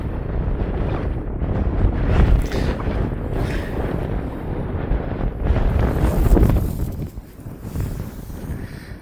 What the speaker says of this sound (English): Don't know if you can hear everything because of the wind